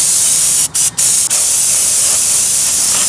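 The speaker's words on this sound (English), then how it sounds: "Dirty transmission, meet brake cleaner." Brake cleaner sprays from an aerosol can onto a dirty Integra transmission, a loud, close, continuous hiss broken by three quick pauses in the spray.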